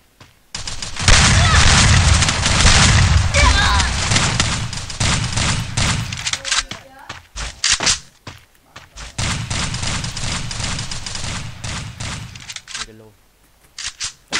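Gunfire in a shooting video game, with dense bursts of rapid shots and booms that come in two long volleys separated by a short lull, loud and near, while players talk over the action.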